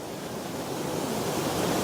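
Sea waves wash against the shore at Kimmeridge with the tide in, a continuous broad hiss and rumble of surf mixed with some wind noise, steady and fairly loud.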